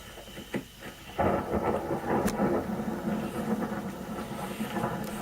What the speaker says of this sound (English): Very close random lightning strike.